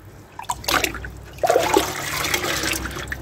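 Liquid splashes and trickles onto a brand new crucible being tempered with a calcium and borax mix, in two short close bursts of pouring and soaking.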